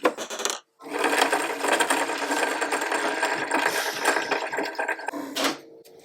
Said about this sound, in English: First thing we're gonna do is wind a bobbin because my bobbin's almost empty.